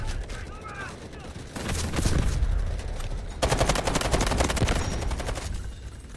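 QBZ assault rifle firing in the video game Delta Force, with rapid automatic bursts crackling close by, brief pauses between strings of shots, and a voice talking through the action.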